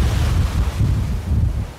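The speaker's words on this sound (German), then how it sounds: "Der zunehmende Wind macht die Fischerei gefährlich." Strong wind buffets the microphone on the Baltic coast, a loud, gusting low roar that swells and eases in waves, with no voices.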